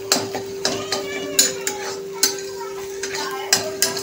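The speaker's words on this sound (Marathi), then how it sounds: "त्यामुळे तुम्ही सतत हलवायचं आहे भुर्जी करताना" Egg bhurji stirred in a kadhai, a spoon scraping and tapping against the metal pan in quick irregular strokes, with a steady hum underneath and faint sizzling.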